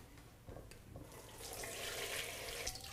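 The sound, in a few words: straining chicken broth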